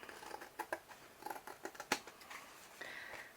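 Scissors trim paper for a junk journal pocket, a short run of crisp, close snips, quiet and with no talk over them.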